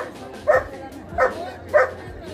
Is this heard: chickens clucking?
no